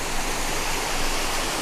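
Steady, close rush of Cascade Creek pouring over rocks along the Pawnee Pass Trail, a full broadband roar with no voices.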